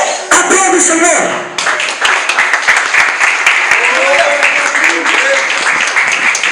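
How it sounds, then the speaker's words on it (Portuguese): Congregation clapping during Portuguese-language street evangelism, a loud, close burst of hands that starts abruptly and continues unevenly as a man keeps preaching over it. "Aplaude o Senhor."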